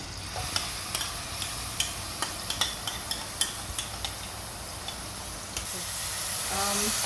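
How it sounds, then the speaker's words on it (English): Oil with cumin seeds sputtering in a pan as onion goes in, a steady frying hiss punctuated by sharp crackling pops through the whole stretch, close and moderately loud with no talking. "As it starts to sputter, add in the onion."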